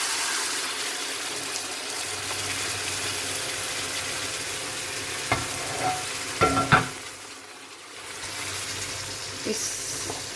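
Butter chicken gravy sizzles and bubbles in a pan on the stove while a spoon stirs it, with a few louder scraping knocks midway over a constant frying hiss.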